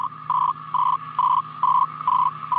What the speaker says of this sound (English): This is the sound of facsimile telegraphy.